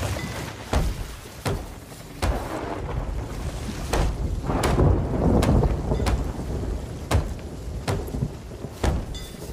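Stormy sea in Sea of Thieves: a steady roar of wind and crashing waves around a sailing ship, with sharp creaks and knocks of the boat recurring every second or so, loud and continuous, no voices.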